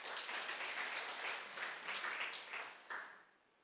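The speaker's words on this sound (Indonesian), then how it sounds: "Kalau amin beri tepuk tangan dong." A church congregation claps during a Sunday worship service, a soft, fairly distant patter of hands that swells and fades in uneven waves before tapering off near the end.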